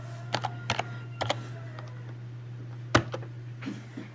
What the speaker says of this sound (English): So I will clear the terminal by typing clear.